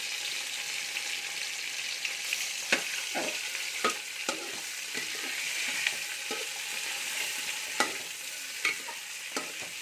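Onions fry in hot oil for chicken biryani, a continuous close sizzle with repeated sharp spatula clicks and scrapes against the pot, no talking.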